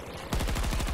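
Automatic gunfire in the shooter game Battlefield 2042: after a brief lull, a loud, rapid burst of shots fires in a tight, steady rhythm until the end.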